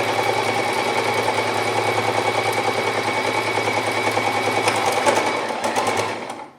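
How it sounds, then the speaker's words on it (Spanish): A sewing machine stitches a slipper upper with a continuous, loud, close whirring hum and a rapid needle rhythm, slowing and fading only at the very end. "atraco y continúo cosiendo"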